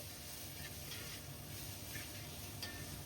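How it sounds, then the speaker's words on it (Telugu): Ginger garlic paste sizzles and fries in brass cookware, a steady close hiss with faint scraping and clinks as it is stirred. "అల్లం వెల్లుల్లి పేస్ట్ పచ్చివాసన పోయినంత వరకు ఫ్రై చేసుకోవాలి."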